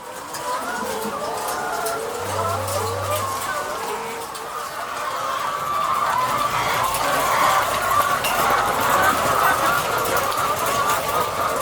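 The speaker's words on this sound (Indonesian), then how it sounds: "Peternakan ayam petelur kita ini." Many laying hens cluck and chatter continuously in a crowded coop at a prison egg farm, a dense layered din with a brief low hum underneath.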